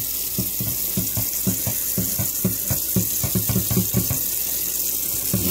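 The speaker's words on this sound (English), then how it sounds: "Get that water good and warm." Warm tap water runs steadily into a sink while copper is scrubbed clean with an SOS pad, a close, continuous splashing stream with rhythmic scrubbing pulses and no voices.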